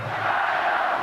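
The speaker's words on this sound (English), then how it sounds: "Listen to this crowd." A rugby league crowd at a 1999 Leeds versus Halifax match cheers and roars in a continuous dense wash of voices, loud and sustained, with no single voice standing out.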